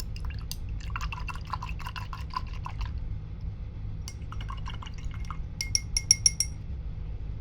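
A paintbrush rinses in a water jar for acrylic painting, with bursts of swishing and dripping water and light glassy clinks against the jar, close up over a low steady background hum, ending in a few sharp taps.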